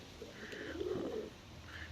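A pigeon in a cellar loft gives a single soft, throaty coo, close by and fairly faint, over a low hum of background noise.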